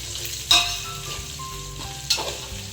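Chopped chili drops into hot oil with onions and whole spices for pulao or khichdi, giving a steady sizzle, with two sharp clinks of a utensil against the pan.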